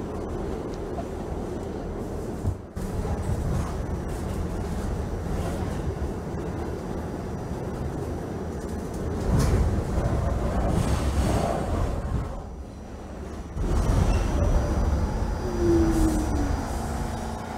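A New York City subway N train from the Trainz Simulator 2012 game rumbles along the tracks with a steady, moderate roar, briefly dipping and then swelling again.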